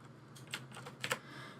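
Keys tapped on a computer keyboard in a few quick, soft clusters, fairly quiet against a low steady hum, with no voices.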